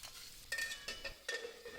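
Potatoes tossed and frying in a pan with Kashmiri chilli powder and garam masala, heard as a few short scraping stirs over a quiet sizzle, close and alone.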